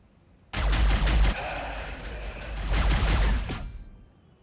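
Warhammer 40,000 battle between Astra Militarum and Necrons with tanks and infantry: a sudden loud burst of dense, rapid gunfire and heavy weapon blasts that continues for about three seconds, swelling again before cutting off.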